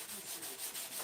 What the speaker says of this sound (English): Look at that, Michael sanding the hell out of that stuff